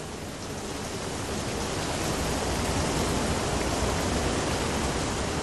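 Water pours down inside a large LNG storage tank during a pressure test, a dense, continuous roaring hiss like a heavy waterfall that builds slightly and then holds steady throughout.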